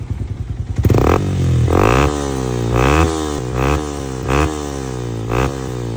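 Yamaha Sniper 150 fitted with an MVR1 power pipe, revved at half throttle in a series of five or six loud, close blips that rise and fall over a steady idle, with no talk.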